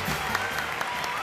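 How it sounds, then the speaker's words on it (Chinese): A theater audience claps steadily and densely to welcome a famous director onto the stage at a comedy show, a full continuous wash of applause with no pauses. "下面掌声有请我们著名大导演知名先生。"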